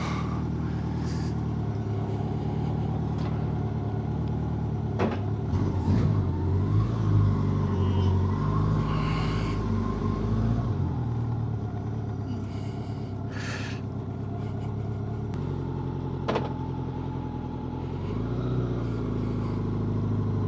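A 1987 Honda GL1200 Gold Wing motorcycle being ridden, its steady engine rumble and wind noise continuous throughout, heard from the rider's position with shifts in tone.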